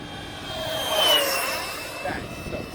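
A Durafly DH 100 Vampire MK 6 RC jet with flaps and rudders flying past on a windy day, a whining electric ducted-fan tone rising and falling in pitch as it swoops by, with wind noise underneath.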